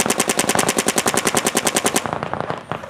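Dynasty One Force paintball marker firing a rapid, even burst of about twenty close, loud shots, then a quieter mechanical rattle as the firing stops.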